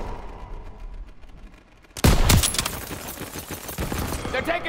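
Gunfire in Call of Duty WWII battle: after a quieter stretch, a sharp loud volley erupts, followed by sustained rapid rifle and machine-gun fire, close and dense, continuing to the end.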